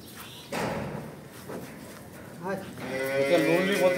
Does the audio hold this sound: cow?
yes